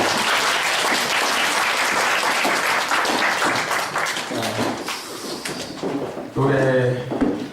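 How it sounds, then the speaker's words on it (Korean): A church congregation claps in welcome during a service, dense applause that fades slightly before a voice speaks near the end. "환영의 박수를 올려드리겠습니다."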